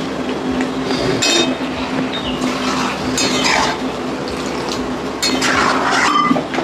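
Water poured into a pot of dal and greens being stirred on the stove for a Bengali home meal, a steady broadband splashing and trickling that fills the clip and swells in brief surges, close and fairly loud.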